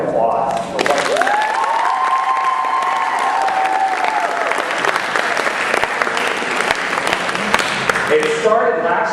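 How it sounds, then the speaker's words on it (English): An audience applauds students at a school program event, giving sustained, loud clapping over several seconds with a few cheers and voices mixed in. "give yourselves a round of applause for what you're doing."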